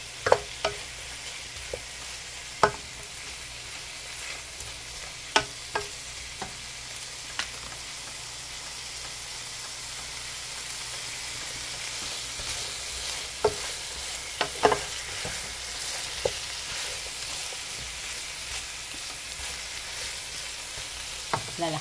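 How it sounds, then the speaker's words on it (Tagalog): Chicken sautéing in a pan for adobong labong, a continuous close sizzle with sharp utensil clicks and scrapes recurring every few seconds. "Igisa lang natin ng konti."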